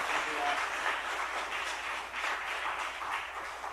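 A church congregation at a Wednesday evening service applauds as a missionary from Chiang Mai comes forward, a continuous room-filling round of clapping that stays steady throughout.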